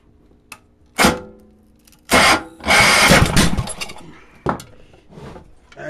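Small engine with no muffler cold starting on full choke: a few sharp, loud starter bursts separated by pauses, one longer sputtering run that dies, then another short crank, all close up.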